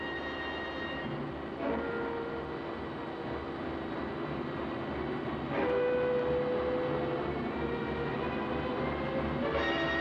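A heavy mechanical press starts up in an engineering workshop, giving a steady droning machine hum with sustained tonal whines and a slight lift in intensity partway through, continuous and fairly close with no voices.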